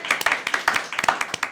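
Sparse hand claps from a small audience at a Thai game-show-style talk program, a dozen or so uneven claps over a second and a half, close and moderately loud with no talk over them.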